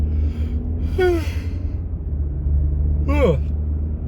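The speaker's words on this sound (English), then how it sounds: "I just yawned on camera." A drawn-out yawn with a rising then falling voiced tone, heard twice over steady low engine rumble, close to the listener.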